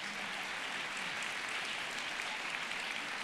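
Applause from an audience at a women's forum event, a dense, steady wash of clapping held evenly for a few seconds, fairly faint and heard alone without speech.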